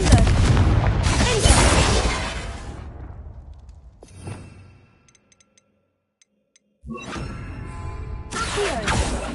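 Booming magical blast spells erupt in a Hogwarts Legacy fight, a loud rumbling explosion opening, then a brief lull with faint ticks before another heavy burst.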